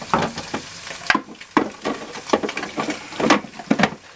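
Whole onion pulsed in a food processor in a home kitchen, short chopping bursts repeating every half second or so, loud and close with no talking.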